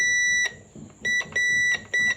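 An old cordless telephone's page button sets off a series of sharp electronic beeps: four or five short, high pulses with brief gaps between them, loud and close.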